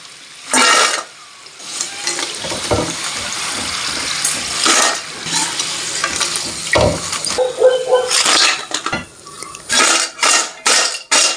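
Crisp fried nendran banana chips clatter and rattle in loud, close, irregular bursts as they are tipped from the pan into a metal vessel.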